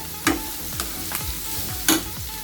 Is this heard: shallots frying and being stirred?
yes